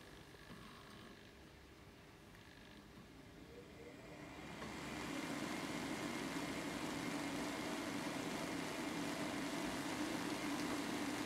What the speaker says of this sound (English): Starting the synchron motor.